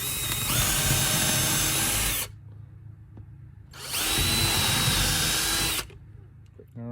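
A power drill whines loudly in two sustained bursts of about two seconds each, drilling 11/64-inch holes, separated by a short quiet pause with faint background noise.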